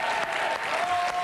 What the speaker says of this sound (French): Fais vos applaudissements